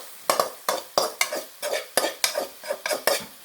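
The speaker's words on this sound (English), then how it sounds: "we're back with the sauteed mushroom. So, things have began to get a little bit brown in here" Mushrooms sautéing in a hot pan are stirred in quick, regular scrapes and clatters over a soft sizzle, about a dozen strokes in steady rhythm. No voices are heard.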